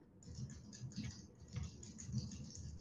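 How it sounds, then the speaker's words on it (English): Faint computer keyboard typing, soft irregular clicks and taps at low volume over a background hum, with no voices. "So this is supposed to be, I think, keyboard sound."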